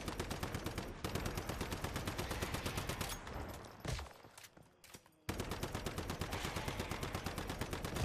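Turret gunfire in the survival shooter Once Human, rapid evenly spaced automatic shots that stop for about two seconds, then resume at the same steady loud rate.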